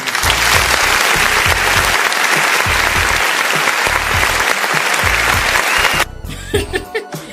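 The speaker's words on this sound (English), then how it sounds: "Somebody better clap your hands." A lively crowd at a show hosted by a DJ claps and cheers loudly over thumping music with a heavy beat for six seconds, then the noise drops as a voice begins over quieter background.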